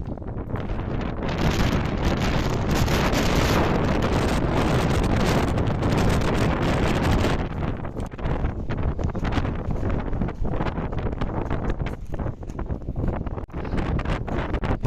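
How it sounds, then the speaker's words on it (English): Strong wind blasts across a high rooftop in Benidorm, with loud, constant buffeting against the microphone that eases slightly partway through but keeps roaring and gusting the whole time. "So you hear me above the wind?"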